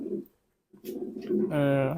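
Bangladeshi native (deshi) pigeons coo softly in short throaty phrases, close by, with a brief pause before a louder, rolling coo at the end.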